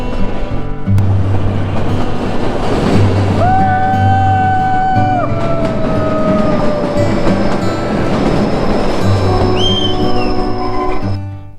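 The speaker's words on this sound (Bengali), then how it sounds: "এই ট্রেনটার নাম কিন্তু কালকা টু সিমলা এনজি এক্সপ্রেস" The Kalka–Shimla narrow-gauge toy train runs through mountain track with tunnels, a loud steady rumble with rhythmic wheel clatter, broken midway by long tonal squeals or whistle-like pitches.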